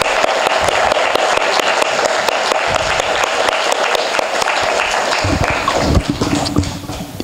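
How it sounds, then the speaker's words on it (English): An audience at a weekend speaker event bursts into sustained applause, dense clapping from a crowd that holds steady and then thins out near the end. "Let's all give a round of applause to all the three speakers that we had speak this weekend."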